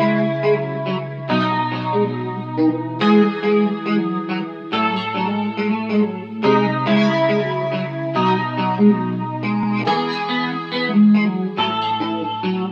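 An electric guitar processed through Guitar Rig chorus, FabFilter and other effects, playing a steady repeating chord pattern with a wide shimmering, slightly distorted and reverberant tone, loud and continuous with no talking, from the production of a drill track.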